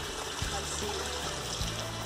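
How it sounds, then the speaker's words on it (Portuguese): Spring water trickles steadily down from a natural source on a rural smallholding, a continuous close wash of flowing water with a faint voice underneath. "Vocês estão vendo aí, água aqui descendo."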